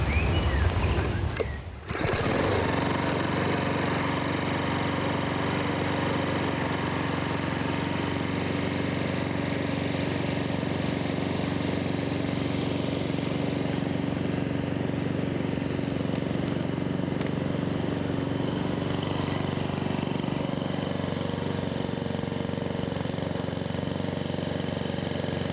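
Mountfield self-propelled rotary petrol lawn mower engine starting with a brief burst, then running steadily at a constant, loud drone for the whole stretch, with no talk over it.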